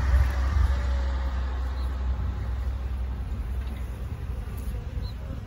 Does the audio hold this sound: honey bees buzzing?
yes